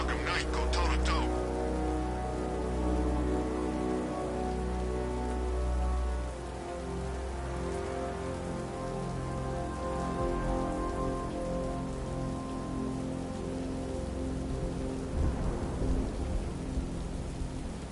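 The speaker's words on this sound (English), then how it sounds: "What's with all the rain?" Steady rain patters on surfaces in the video game Batman: Arkham Knight throughout, with a low rumble and occasional thunder-like swells in the background.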